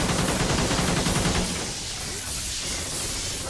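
Dense gunfire from Call of Duty: Ghosts multiplayer in Beast Mode, a loud continuous barrage of rapid shots that thins slightly after the first moments but keeps going throughout.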